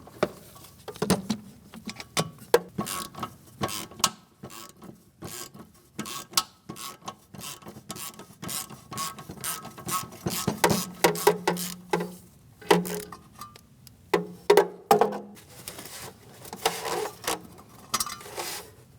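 Bursts of quick clicking from a hand ratchet loosening 10mm bolts on a bracket of a 2006-2010 Hyundai Sonata, intermittent runs of close ratcheting with small pauses and metallic handling noises between them.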